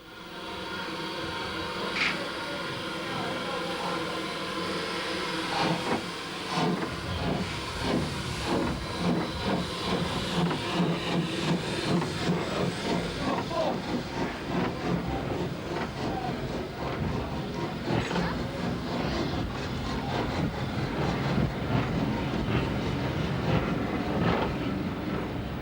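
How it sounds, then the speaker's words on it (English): A steam locomotive wearing a Thomas headboard hauls a passenger train toward Swanwick at the Midland Railway Centre, a loud sustained roar of hissing steam and rumbling, rattling wheels that swells as the train draws near. "the loco takes the passengers to Swanwick"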